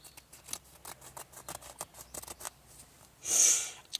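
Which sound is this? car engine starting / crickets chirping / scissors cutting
scissors cutting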